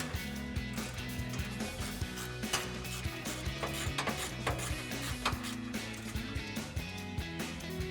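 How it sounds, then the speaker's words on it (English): Ratchet driving a 13mm socket to tighten a harness ground bolt on a 2015-2020 Ford F-150 during rear bumper installation, giving a run of quick close clicking ratchet strokes with small pauses, quiet and unaccompanied by speech. "Grab our ratchet and 13mm socket and tighten it down."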